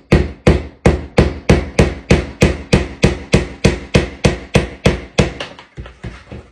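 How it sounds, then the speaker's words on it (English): Wooden dowel hammered into a bow maker: roughly eighteen sharp, evenly spaced hammer blows on wood, loud and close, speeding up slightly toward the end. "I'm gonna hammer that one in as well."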